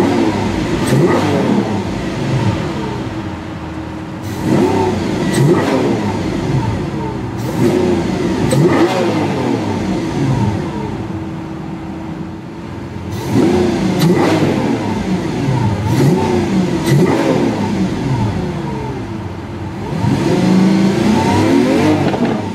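A Lamborghini Aventador engine in Strada standard mode revs repeatedly, loud and close, with several sharp throttle blips rising and falling over a steady idle rumble.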